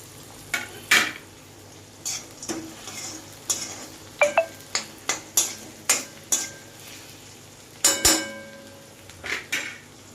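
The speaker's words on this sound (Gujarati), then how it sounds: "બટાકા ડુંગળી નાખી દીધા છે તો ડુંગળી બી શેકાઈ જાય અને બટાકા બી સડી જાય જોડે જોડે।" Potatoes, onions, curry leaves, green chillies and peanuts fry in a pan under a low sizzle, with a run of sharp metallic spoon clanks and scrapes against the pan.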